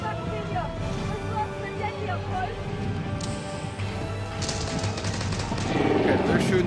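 Rapid automatic gunfire from the Warhammer 40K Battle Sisters video game rattles in continuous bursts under a player's commentary.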